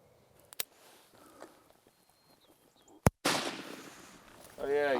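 A rifle shot while hunting exotic game: a sharp crack early, then a very loud close shot with an echoing tail, among soft rustling; someone speaks at the very end.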